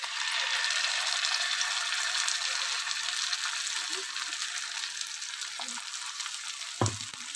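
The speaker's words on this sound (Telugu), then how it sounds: "ఉల్లిపాయ ముక్కలన్నీ కొంచెం ట్రాన్స్పరెంట్ అయ్యేంత వరకు అయితే మనం ఇలా ఫ్రై చేసుకోవాలి" Chopped onions and ground masala frying in hot oil for egg curry, a steady close sizzle throughout with a brief clink near the end.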